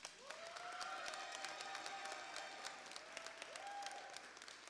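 At a high school graduation ceremony, a large crowd applauds steadily at a distance, faint and reverberant, with a thin tonal hum running underneath the clapping.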